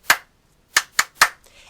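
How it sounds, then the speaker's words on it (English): A teacher's hand-clap signal in a classroom: one sharp clap, a pause, then three quick claps in a row, close and crisp against a silent background. "you'll hear me clap like this."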